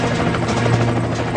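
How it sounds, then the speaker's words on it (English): A United States Coast Guard air rescue helicopter flies past with a loud, steady rotor and engine roar, a dense continuous drone with a low throbbing beat throughout. "A United States Coast Guard air rescue helicopter races into hostile territory."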